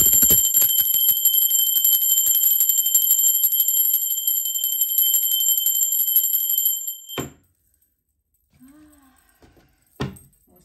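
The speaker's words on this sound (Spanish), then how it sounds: "Rápidamente va campana, seres divinos, aprovechen para agradecer en esta alta frecuencia que es la campana." A small bell rung rapidly to open a tarot reading, a loud, continuous bright jingling for about seven seconds that cuts off abruptly, followed by quiet and a single soft clunk.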